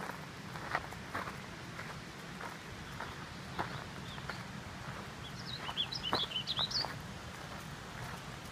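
On a hike, a bird gives a brief, faint burst of high chirps partway through, heard over soft footsteps on the trail.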